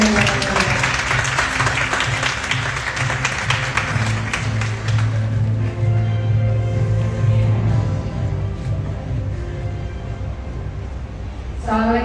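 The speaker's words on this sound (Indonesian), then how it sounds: "Mari kita beri tepuk tangan." Audience applause at the Miss Indonesia 2025 pageant, a sustained wash of clapping that holds steady and loud for most of the stretch, with music underneath and a brief swell near the end.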